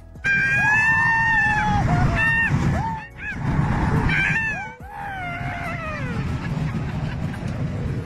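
People scream together on an amusement ride at Parc Astérix near Paris, loud sustained wavering shrieks in several bursts over a rumbling mechanical background.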